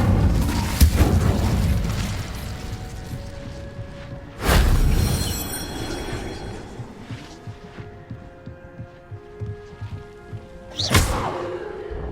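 Incendio fire spells cast in Hogwarts Legacy, heard as three sharp booming whooshes spaced several seconds apart, each flaring then fading into a ringing magical tail, with quieter game ambience between them.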